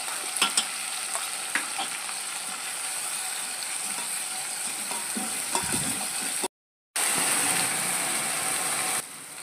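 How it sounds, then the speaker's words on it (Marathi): Onion paste with cumin being sautéed in a pan for a mutton rassa, with steady sizzling and frying plus repeated scraping and stirring clicks throughout, and a brief gap near the end. "कांदा चांगला परतून झालेला आहे।"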